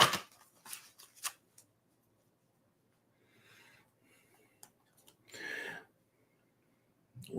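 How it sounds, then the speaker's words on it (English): Oracle cards are shuffled by hand in a quiet room, giving short papery riffles and flicks in scattered bursts, with a longer riffle near the end and near silence between. "Let me get a good shuffle."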